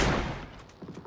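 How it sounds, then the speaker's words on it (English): A single sniper rifle shot in PUBG cracks loudly at the start and fades into a rolling echo, with faint small pops trailing after. "Oh wow, he sniped this guy."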